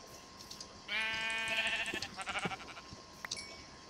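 Sheep in the Minecraft video game gives one clear, close bleat followed by a few quieter fluttering bleat fragments, over a faint background hiss.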